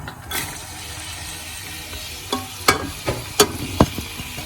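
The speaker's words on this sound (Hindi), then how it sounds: "अब इसमें प्याज और थूम डाल के दोनों को फ्राई" Onion and garlic fry in hot oil in a pressure cooker, a soft continuous sizzle broken by several sharp, close stirring scrapes and clinks near the end.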